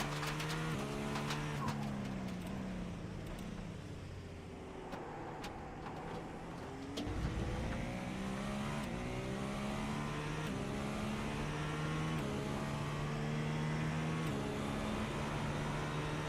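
Acura race car in the iRacing game at Circuit de la Sarthe, Le Mans, its engine droning steadily through shifting gear pitches over about sixteen seconds, fairly quiet and continuous, with a brief dip and a fresh rise partway through.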